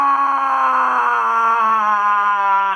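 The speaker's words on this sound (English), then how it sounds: "we're gonna scream in different pitches" A person screams at normal pitch in one sustained, loud, steady cry lasting nearly three seconds, close to the mic and alone.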